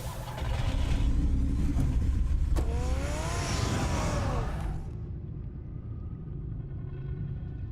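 A Batmobile engine in Batman: The Telltale Series runs as a heavy, steady low rumble with no one talking. It stays loud for the first few seconds, then eases to a softer, continuing drone.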